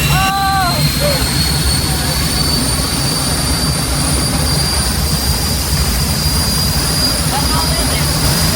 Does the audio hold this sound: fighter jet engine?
yes